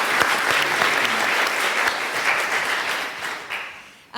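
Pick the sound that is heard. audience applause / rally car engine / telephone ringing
audience applause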